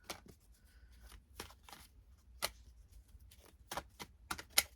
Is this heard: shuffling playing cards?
yes